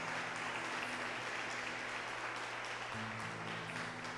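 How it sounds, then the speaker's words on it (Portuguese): Congregation applauding in a church service, a steady, fairly faint wash of clapping with a sustained musical tone underneath. "Então já pode começar a aplaudir o Senhor."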